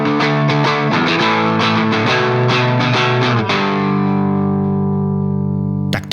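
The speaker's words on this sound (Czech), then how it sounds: "Naprosto skvělý overdrive, jak jste sami koneckonců slyšeli." Electric guitar through a Lee Hooker Color Trip vintage overdrive pedal, a loud, crunchy run of picked notes and chords ending on a long sustained ringing chord, followed by a brief scrape at the end.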